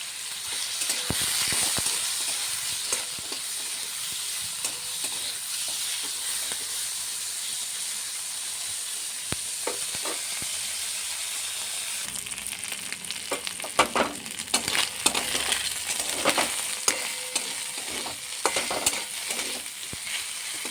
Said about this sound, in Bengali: মাছ ভাজা হয়ে গেছে, উঠিয়ে নেব।